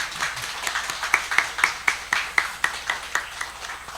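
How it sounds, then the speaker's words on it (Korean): Church congregation clapping for the youth after a special song, with a steady run of sharp hand claps at an even rhythm through a roomy space, moderately loud and without talk. "우리 다시 한번 청년들에게 격려와 축복의 박수 다시 한번 부탁드리겠습니다."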